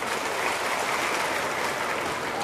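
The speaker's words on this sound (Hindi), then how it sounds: "तालियां थोड़ी कम बजे।" Crowd applause at the foundation-stone ceremony for a new airport in Datia, a steady, fairly distant wash of clapping without clear individual claps.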